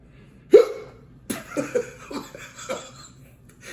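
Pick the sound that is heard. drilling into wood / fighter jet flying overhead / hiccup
hiccup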